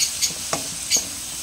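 Fish frying in hot cooking oil gives a steady hiss with a few soft crackles and pops, close and without voices.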